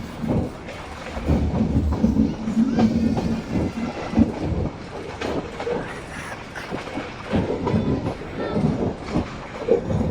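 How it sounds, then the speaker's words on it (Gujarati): A metre gauge passenger train on the Junagadh to Chalala line rolls into Visavadar junction, its wheels knocking in an uneven clickety-clack with clanks and rumbles as it slows. "તો વિસાવદર જંકશનમાં ટ્રેન એન્ટર થાય છે."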